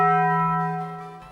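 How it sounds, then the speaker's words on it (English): A Taco Bell-style bong chime rings out once, a clear bell tone with steady layered overtones that slowly decays over about a second, with no talk over it. "The Taco Bell bong again."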